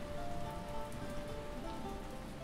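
Steady rain patters on surfaces in the video game Castle Flipper, a constant, even wash of drops with no pauses, heard alone and fairly close.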